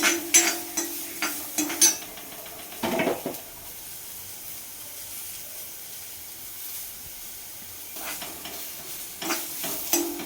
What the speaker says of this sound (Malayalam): അപ്പോൾ ഇത് വറുക്കുവാണ് കേട്ടോ